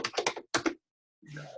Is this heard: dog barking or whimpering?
no